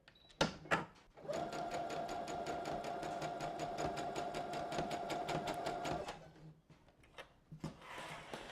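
A sewing machine stitches through fabric in one steady run of rapid needle clatter lasting about five seconds, framed by a few brief clicks and handling knocks before and after.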